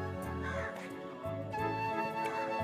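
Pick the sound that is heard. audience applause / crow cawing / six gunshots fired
crow cawing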